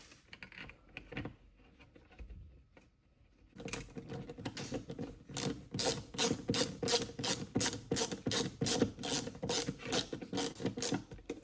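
Screws being driven into a thermostat mounting plate with a ratcheting tool, heard as a rapid string of close, rhythmic clicking strokes after a brief quiet start, with no talk.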